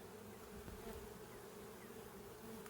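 Honey bees at an opened backyard hive drone in a steady, close, continuous buzz with no voices, a dense swarm hum that stays even throughout.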